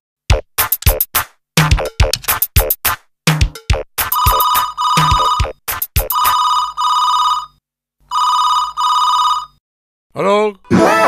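Telephone bell rings in repeated loud bursts with short gaps, nearby and prominent; voices speak over the opening rings.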